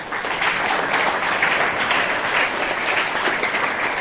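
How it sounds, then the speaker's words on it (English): An audience at a school biology quiz claps in a steady, dense burst of applause, many hands together at an even level for several seconds, with no talk over it. "So clap for them."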